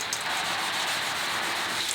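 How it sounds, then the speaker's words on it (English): Continuous close rubbing of 320-grit sandpaper wet sanding a scratch out of motorcycle paintwork, a steady hissing scrape with no pauses. "we're gonna wet sand that out real quick"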